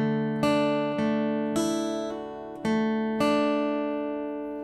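An acoustic guitar picks the intro of a song, with several clear plucked notes and chords ringing out one after another at a relaxed pace, close and alone.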